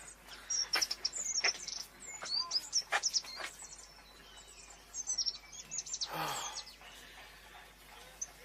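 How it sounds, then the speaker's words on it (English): A caged goldfinch chirps in quick high twittering bursts, with a brief flutter of wings partway through, fairly faint and set against a quiet room with soft background noise. "How much for that goldfinch there in the cage?"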